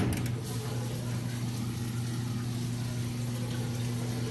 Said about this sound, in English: So the water drains out.